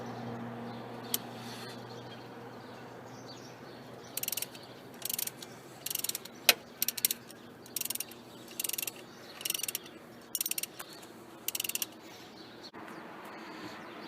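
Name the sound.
half-inch ratchet undoing bolts on a Holden Commodore water pump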